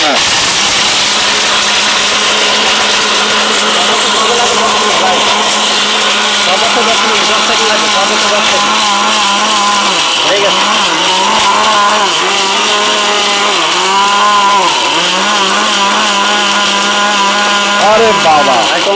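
A powerful robot blender grinds chili, ginger, garlic and onion with a loud, continuous, close motor whine that dips in pitch now and then as the load shifts, while voices talk underneath.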